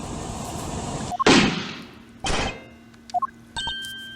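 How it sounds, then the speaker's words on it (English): A gunshot in the video game Ace Attorney Investigations 2, a loud sharp blast standing alone amid quieter game sound effects, followed by a second burst and small chiming blips. "That was a gunshot!"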